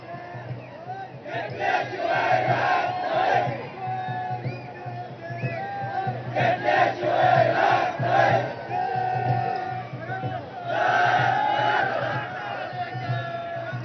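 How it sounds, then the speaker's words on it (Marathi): A large crowd of Maratha protesters near CSMT in Mumbai shouts and chants in rising and falling waves, loud and close, with many voices overlapping. "मराठा आंदोलकांची गर्दी झाली आहे"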